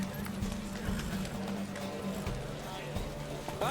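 Horses galloping in a race in The Witcher 3, a steady clip-clop of hooves running fast and close, with a low rumble beneath and a voice calling out over the pounding.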